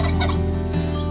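A turkey on a turkey farm gobbles loudly and close by, one rapid warbling gobble that fills the whole brief moment.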